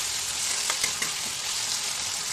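Tomato added to poha frying in a home kitchen pan gives a steady broadband sizzle, with a couple of brief soft stirring clicks near the middle and no talking.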